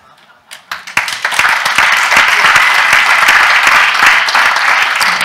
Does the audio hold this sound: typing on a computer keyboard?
no